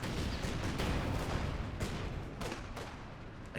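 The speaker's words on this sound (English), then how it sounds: "Up there goes more grenades." Grenades and artillery exploding in Company of Heroes 2 close-quarter combat, a rumbling barrage of several booms and cracks in quick succession, loud and near.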